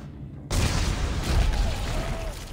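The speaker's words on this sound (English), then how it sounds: "Conveniently placed explosions." An explosion in Dead Space 3 bursts in abruptly after a quiet moment, a loud booming roar with rumbling debris that sustains and slowly trails off.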